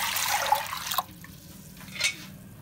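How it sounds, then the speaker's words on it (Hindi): Water poured from glasses into a hot pan over the stove for beef palak gosht, a splashing rush in the opening second, then quieter trickles with one more brief splash later. "3 गिलास पानी डाले इसमें।"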